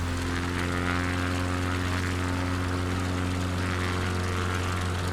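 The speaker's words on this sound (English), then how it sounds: "Okay, throttling up." A single-engine propeller plane in Microsoft Flight Simulator 2020, on a Patagonia bush runway, throttles up for takeoff: a loud, steady engine drone with a strong low hum and broadband rush, continuous throughout and without talk.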